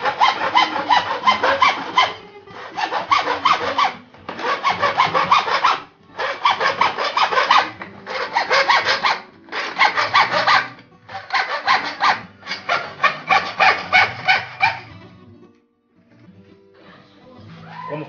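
A hand saw cuts a plumbing pipe along a marked line in steady back-and-forth strokes, about eight rasping bursts of even rhythm, close and loud, ending in a few quieter scrapes.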